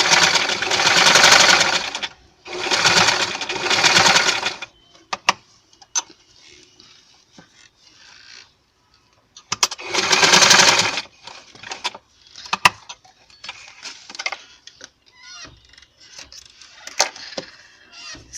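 Sewing machine stitching piping onto a plain frock, three loud close bursts of rapid stitching separated by pauses filled with small clicks and fabric handling.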